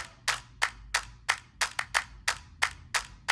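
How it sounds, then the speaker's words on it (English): Sampled claps from a sample library repeat in a steady beat, each clap sharp and close, about ten hits with no other sounds. "I found these claps, which I absolutely love."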